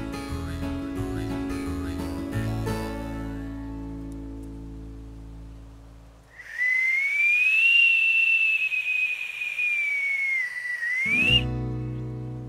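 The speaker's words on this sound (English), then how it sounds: "I got the bark to slip to make this whistle" A whistle made from slipped tulip poplar bark is blown in one long, clear, wavering tone of about five seconds, close and loud, following a stretch of other sound.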